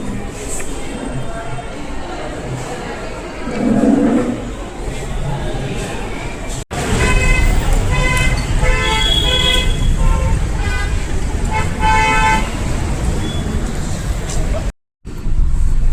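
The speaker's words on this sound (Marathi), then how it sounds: "आत्ता इतकी ट्रॅफिक आहे इथे रस्त्यात" Busy road traffic in Karjat rumbling steadily, with a long car horn blast and repeated honking from several vehicles, fairly close.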